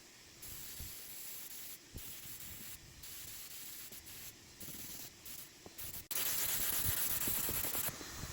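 A paint spray gun hisses in bursts, the steady airy spray pausing briefly and resuming, then growing louder and harsher near the end.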